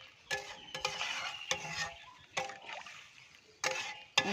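Water poured into a pot of sautéed spice mix during home cooking, a few separate splashing pours with soft sizzling and stirring between them, close and moderately loud.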